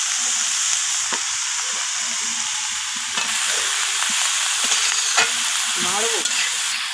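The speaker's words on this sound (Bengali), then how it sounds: "তো বাঁধাকপিগুলো দিয়ে আমি সমস্ত কিছুর সাথে এইভাবে নাড়াচাড়া করে মিশিয়ে নিয়ে কষিয়ে নিচ্ছি।" Cabbage being stir-fried with spinach and gourd greens in a hot pan, a steady sizzle running throughout with occasional scraping and stirring clinks close by.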